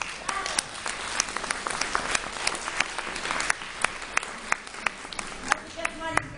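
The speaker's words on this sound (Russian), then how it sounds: "Я думаю, что это стоит ваших аплодисментов." Audience members at an art lovers' club meeting applaud painter Oleg Yakhnin. Moderately loud, sharp individual claps blend into an even patter with faint voices underneath.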